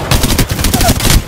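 Rapid automatic gunfire in Apex Legends, a loud, dense burst of about a dozen close shots in quick rhythm.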